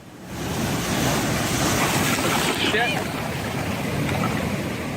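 Huge ocean waves roll in and crash at a fishing spot, a loud, sustained roar of surf and churning water with heavy wind buffeting the microphone throughout.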